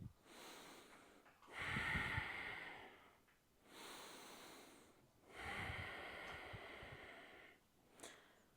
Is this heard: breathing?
yes